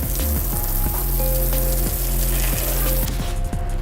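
Water spraying onto an electric car's window to imitate rain, a loud dense hiss with irregular patter, close and continuous throughout.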